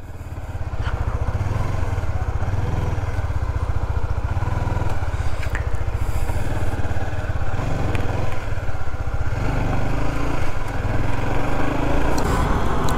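A 2021 Honda CBR 150R ABS sports motorcycle runs steadily for the whole stretch, a loud, close, continuous engine drone that holds an even pitch with faint clatter on top and no talking.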